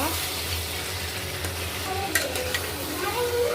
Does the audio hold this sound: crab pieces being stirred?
yes